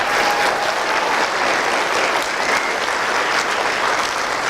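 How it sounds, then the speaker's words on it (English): Sustained, dense applause from a commencement ceremony audience, loud and steady throughout with no talk over it. "Let's give them another round of applause."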